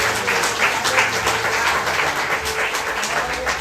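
A church congregation claps in a sustained, dense round of applause, loud and fairly close, with some voices mixed in beneath.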